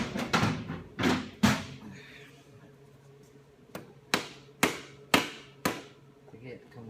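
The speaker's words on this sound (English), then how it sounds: "sometimes you have to smack it with a mallet" Mallet blows on a part of a 6.0 Powerstroke engine being knocked loose from its dowels during disassembly: sharp, loud smacks, a cluster of three early on, then a short pause and a steady run of about five evenly spaced hits.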